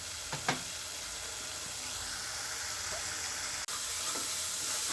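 Masala frying in oil for a bottle gourd kurma gravy gives a steady, soft sizzling hiss throughout, with a couple of faint clicks near the start and one sharp tick partway through.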